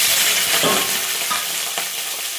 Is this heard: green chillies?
yes